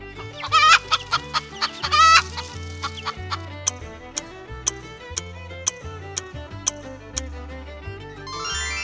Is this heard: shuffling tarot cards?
no